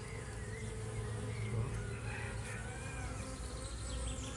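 Honeybees buzzing steadily at the entrance of a newly installed backyard hive as foragers bring in pollen, a dense continuous hum of many insects close by with no voices.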